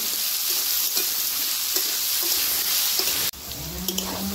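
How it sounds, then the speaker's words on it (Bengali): Mixed vegetables, pumpkin among them, stir-fry in a pan with a steady, close, loud sizzle, broken by soft scraping stirs and a brief cut before the frying resumes. "নাড়াচাড়া করে ভেজে নেব।"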